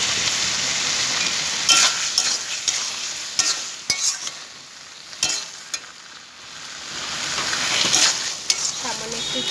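Taro leaves (kachu shak) cook in a pan, a continuous soft sizzle broken by scraping stirs and several sharp clicks of a spoon against the metal, close and alone without talk.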